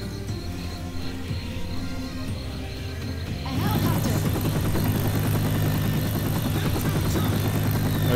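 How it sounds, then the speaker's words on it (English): Helicopter in the video game Left 4 Dead 2, a low rotor and engine rumble that swells abruptly louder partway through and then holds a steady, heavy beat. "I didn't know there was a helicopter at enlightenment."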